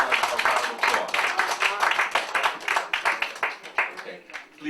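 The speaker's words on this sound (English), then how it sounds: "Give Mike Bell a round of applause" An audience claps for Mike Bell at a debate event, a dense, fairly loud patter of many hands that thins out slightly toward the end.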